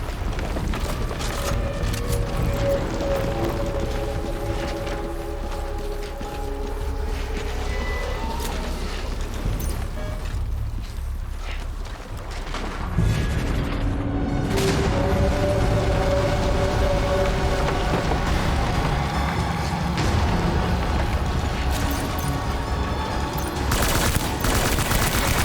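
Automatic gunfire from an assault rifle in Death Stranding, dense rapid bursts with heavy booms sustained across the stretch, briefly thinning midway before resuming loud and continuous.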